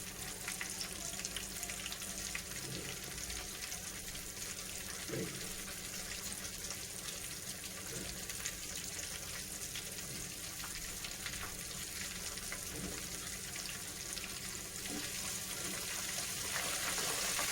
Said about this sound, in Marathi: बारीक गॅसवरती फ्राय करून घ्यायचे आपल्याला हे